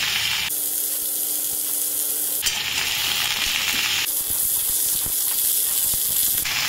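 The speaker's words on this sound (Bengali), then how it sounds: "এগুলো হালকা করে ভেজে নিয়েছি।" Potato, aubergine and beans frying lightly in a pan, a steady close hiss of sizzling oil with occasional stirring clicks, shifting in texture twice but continuous throughout.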